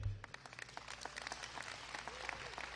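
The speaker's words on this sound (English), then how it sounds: "Round of applause for a good thing." Faint audience applause at a political event: scattered sharp claps blend into a soft, uneven patter that runs for a few seconds without speech.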